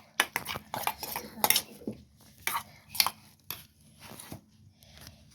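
Mixing food in a pot, with a run of sharp, irregular scrapes and clinks of a utensil against metal, close and moderately loud.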